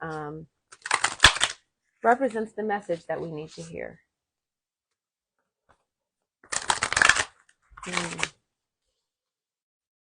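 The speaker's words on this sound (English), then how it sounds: "I'm going to shuffle them like this." Large Gene Keys tarot cards are shuffled by hand in several quick, crisp riffling bursts, close and loud, with someone talking briefly between them.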